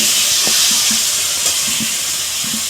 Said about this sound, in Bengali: এইভাবে মাংসটা নাড়তে থাকবো আর ঢাকা দিতে থাকবো।